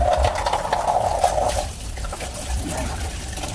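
Water is poured and trickles while a dog is bathed at a kennel. A steady splashing stream is loudest at first, then eases into softer dribbling.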